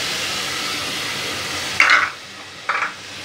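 Onions and green chillies frying in ghee for an egg curry, a steady hissing sizzle throughout, broken by two brief louder scraping stirs near the end.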